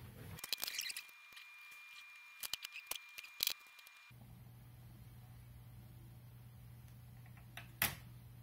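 Wires are snipped off during an HD500x power jack replacement, giving a few close, quick cutting clicks and snaps, then a quiet hum with one last sharp snip.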